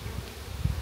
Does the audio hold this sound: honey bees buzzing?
yes